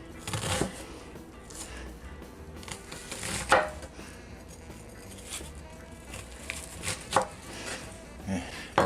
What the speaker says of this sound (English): Dicing the onions.